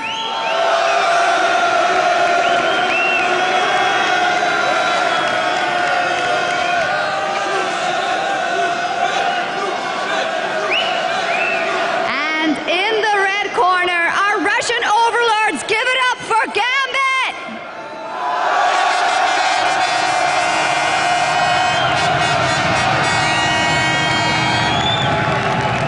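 Esports arena crowd at an LCS 2013 EU Spring League of Legends match, cheering and whooping loudly and steadily throughout, with a brief dip near the middle; an announcer's amplified voice runs over the noise.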